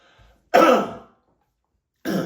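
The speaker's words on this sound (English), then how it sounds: "let me clear my throat" A single loud, close throat clearing, followed by a pause and the start of another rough clearing sound.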